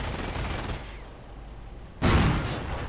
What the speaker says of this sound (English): Anti-tank gun getting mortared.